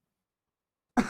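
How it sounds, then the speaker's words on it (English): A single short cough bursts out near the end of an otherwise silent moment, close and fairly loud, with a rough throat-clearing quality. "Pardon my cough."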